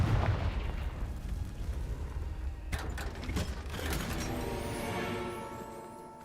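Confringo fire blasting spell cast in Hogwarts Legacy, a booming burst with crackling debris that rumbles for several seconds, loud and close, with a second sharp impact partway through.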